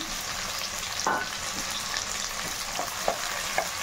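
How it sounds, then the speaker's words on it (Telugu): Two green chillies fry in a pan of hot oil for vegetable fried rice, giving a soft, even sizzle with a few light stirring knocks and no talking. "మిర్చి అండి 2 వేసుకుంటున్నా, పచ్చిమిర్చి"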